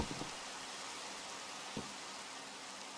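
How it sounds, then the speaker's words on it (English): Steady, faint rain falls in the video game Minecraft, a continuous soft hiss of a passing shower with a couple of light taps and no voices. "We got a little rainstorm going on or something."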